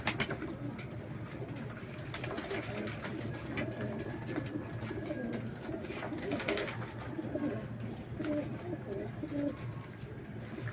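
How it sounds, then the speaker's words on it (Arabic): Pigeons gathering to bathe in coarse salt, with a busy mix of soft repeated cooing, wing flutters and shuffling nearby, and someone talking quietly at times. "هيبدأ بقى الحمام اللي هو ينزل كده يستحمى اهو"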